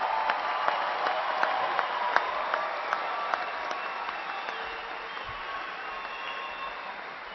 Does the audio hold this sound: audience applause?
yes